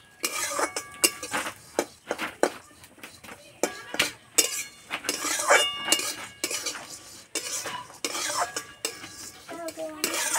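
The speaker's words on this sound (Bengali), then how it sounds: "আস্তে আস্তে জাল দিয়ে চিড়েটা ভালো করে ভেজে নেব।" Flattened rice (chira) being fried in a pan on low heat and stirred steadily, with repeated close metallic scrapes and clinks of a spatula against the pan in an irregular rhythm, and faint sizzling underneath.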